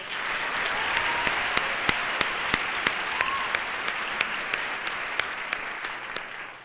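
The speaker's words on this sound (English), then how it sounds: "Let's give it all the girls one more round of applause." Audience applause for pageant contestants at a junior miss competition, a sustained wash of many hands clapping with a few sharp nearby claps standing out, fading slightly at the close.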